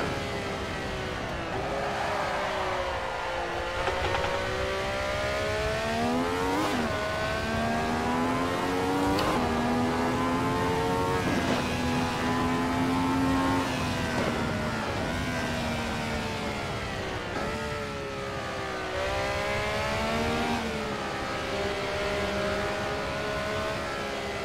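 Ferrari 312T racing engine in a VR driving game on a canyon road, revving hard and high and shifting through gears with rising and falling whine, loud and continuous.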